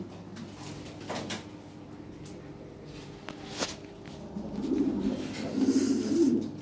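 Large Lahore siraji pigeons, a breeding pair, coo in low rolling bursts that swell toward the end, with a few clicks and knocks from the loft around them.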